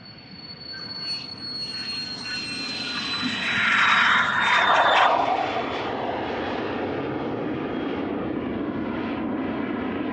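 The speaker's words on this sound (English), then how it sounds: "Embraer Phenom already rotating" An Embraer Phenom jet takes off at Amsterdam Schiphol Airport, its engine whine and roar rising from moderate distance, peaking loudly at mid-clip and then settling into a steady rumble as it climbs away.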